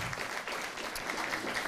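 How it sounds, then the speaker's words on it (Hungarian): An audience at an advent dance show claps steadily in sustained, dense applause throughout, heard from within the hall. "Neki is egy nagy tapsot szeretnék kérni."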